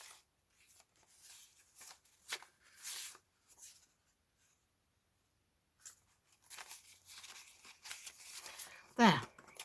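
A pile of paper envelopes handled and shuffled at a craft table, giving scattered rustles and papery slides that stop for a quiet stretch and then return, ending on a sharper crinkle.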